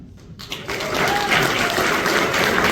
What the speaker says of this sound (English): Let's give a very, very, very big round of applause.